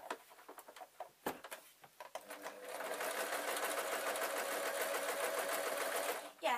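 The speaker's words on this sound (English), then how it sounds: "I suppose it's best to sew the panel on first and then sew the 2 halves round in one go" A sewing machine stitches the panel and halves of a stuffed toy raven, starting with a few short bursts and clicks, then settling into a steady, continuous whirring run before stopping.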